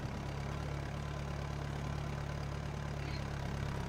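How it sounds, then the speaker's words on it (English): Tractor engine in the video game Battlefield, a steady low droning rumble that holds at an even, moderate level throughout with no change in pace, and no talk. "Tractor coming through!"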